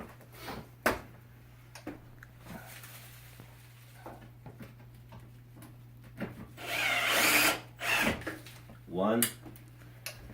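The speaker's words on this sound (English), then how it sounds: "And I'm going to now put the screws here at the bottom." A power drill drives screws into an electric stove during a 12-inch burner replacement, giving a few short whirring bursts near the end among light handling clicks while a person talks.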